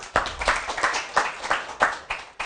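A seminar audience claps for a few seconds, with several distinct, fairly sharp claps in an uneven rhythm and no talking over them.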